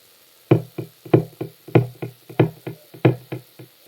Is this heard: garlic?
no